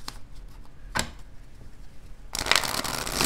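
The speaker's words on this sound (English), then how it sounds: "I'm gonna shuffle up, make sure the energy's through and true" Cards are shuffled close by, with a couple of brief riffles early on, then a longer, louder flurry of rapid, crisp card flutter, with no talk over it.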